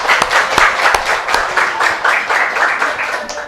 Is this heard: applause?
yes